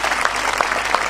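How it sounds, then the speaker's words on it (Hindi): Audience applause at a Hindi poetry gathering (kavi sammelan) in Seawoods, a short, dense burst of many hands clapping together. "तालियां जरा भरपूर दीजिए।"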